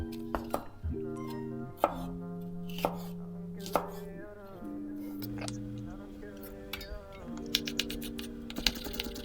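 A knife slices and then dices garlic on a cutting board, giving a steady series of sharp, close taps under continuous background music.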